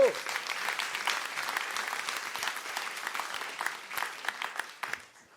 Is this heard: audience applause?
yes